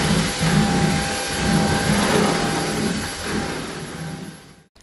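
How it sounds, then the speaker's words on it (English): A vacuum cleaner runs steadily with a loud, broad whooshing drone that rises and dips slightly, then cuts off abruptly at the end. "it looks like I have to vacuum again"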